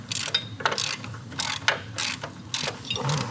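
Ratchet wrench clicking in repeated bursts while the front motor mounts come off an old abandoned flathead motorcycle, about five short loud cranking strokes separated by brief pauses, close by with no talk.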